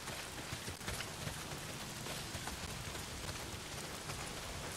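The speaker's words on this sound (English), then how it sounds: "Not if it's pissing down rain." Heavy rain pours steadily in the video game Days Gone, a dense, continuous hiss with no breaks and no talking.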